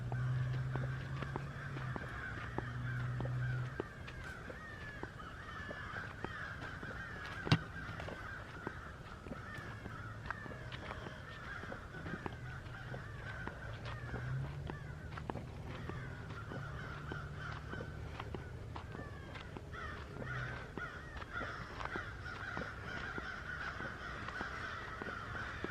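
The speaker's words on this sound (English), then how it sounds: "Those birds are going crazy." Crows caw repeatedly at a cemetery, a steady chorus of harsh calls at moderate distance over quiet outdoor background, with no talking.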